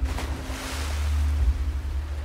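A character wades into water in The Last of Us, with a low, steady sloshing rumble and a soft broadband wash that swells and ebbs briefly.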